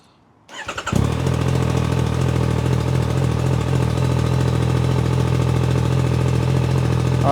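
A motorcycle engine cranks and catches within the first second, then settles into a steady, loud idle that continues without a break.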